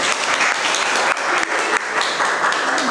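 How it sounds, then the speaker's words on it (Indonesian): Classroom of vocational school students claps for a group being called to present, a brisk, continuous burst of hand clapping close by for a few seconds with a teacher's voice briefly among it. "Tepuk tangan kelompok 1."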